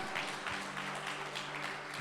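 Worship congregation giving a loud applause for Jesus during a Sunday celebration service, a steady wash of clapping under a sustained tonal hum of music, with no clear individual claps.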